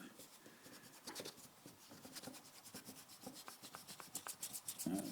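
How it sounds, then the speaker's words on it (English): An eraser rubs out pencil lines on a side-view drawing of a wooden sarod, a close run of quick, rhythmic scrubbing strokes that grow slightly louder and faster toward the end. "Okay, erasing."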